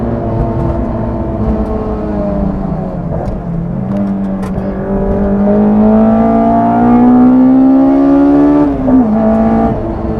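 Honda S2000 fitted with individual throttle bodies, accelerating flat out in third gear on track, a loud close engine note rising steadily in pitch to a high scream before dropping briefly at a gear change.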